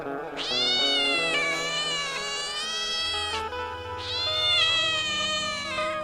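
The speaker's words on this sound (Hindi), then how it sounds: "और जैसे महाराज वो बिल्ली की आवाज सुनाई दी" A kitten meows loudly and insistently, with long, drawn-out cries repeated three or four times close up, nearly continuous, with no talking.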